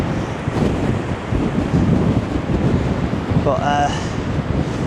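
Strong wind roars across the microphone on the Blackpool promenade beside a rough sea, with continuous loud buffeting and surf mixed in, and a brief voice cutting through near the end.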